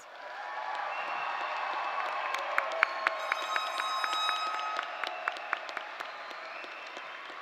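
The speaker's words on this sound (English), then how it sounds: "Let's give them one more round of applause." A crowd at a college commencement ceremony applauds the graduates, a broad swell of clapping with a few sharp individual claps and whistles standing out, rising quickly then holding steady.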